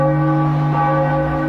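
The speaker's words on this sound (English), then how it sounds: "the expected bell tolled dolefully through the prison" A prison bell tolls, one sustained ringing strike with rich humming overtones that decays slowly and evenly, loud and close, with no other sounds around it.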